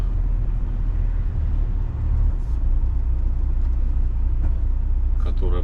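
A train rumbles past a road crossing on a wintry mountain road, a loud, steady low roar heard from nearby, with a voice speaking briefly near the end.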